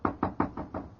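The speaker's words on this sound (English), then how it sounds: "I'd better knock." Five firm knocks on an office door, evenly spaced and close, with nothing else around them.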